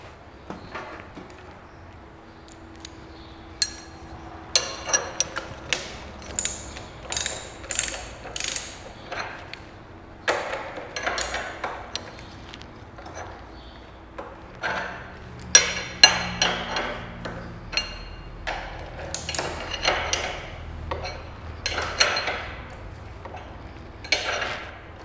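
Bolts being tightened with a ratchet on the mounts of a replacement steering box on a vehicle chassis: bursts of quick clicking pawl strokes, close and fairly loud, with short pauses between runs.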